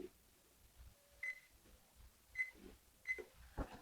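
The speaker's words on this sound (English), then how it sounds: "I'm going to set my timer for 25 minutes." Three short electronic beeps from a kitchen oven timer being set, spaced about a second apart, clear and close in a quiet room.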